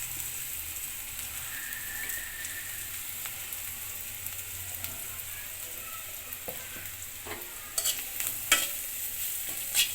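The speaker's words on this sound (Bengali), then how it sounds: "হলুদ গুঁড়ো দিয়ে নেড়ে ফেলে নিলাম।" Turmeric powder is stirred into onions frying in a pan, a soft continuous sizzle with scraping stirs, and a few sharper clatters near the end.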